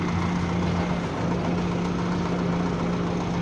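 A tractor engine runs steadily at idle in a pea-sowing setting on a frosty field, a loud, continuous low drone with a faint knocking texture and no voices.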